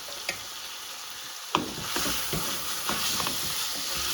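A wooden spoon scrapes and stirs chicken tadka curry in a pan, giving a steady sizzle broken by several sharp scraping strokes, close and moderately loud.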